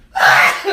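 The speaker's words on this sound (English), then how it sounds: "Darren, sneeze on the man, why don't you?" A woman's sneeze, a sharp close burst that rises fast and tails off quickly, heard alone.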